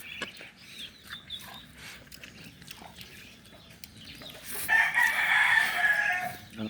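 Chickens cluck intermittently at a rural Filipino yard, then a rooster lets out one loud, close crow near the end, over faint background noise.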